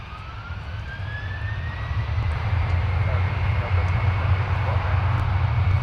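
A jet airliner departing from Minneapolis–Saint Paul airport, its engine roar swelling steadily into a loud broadband rumble with a rising whine, heard from outside at a distance.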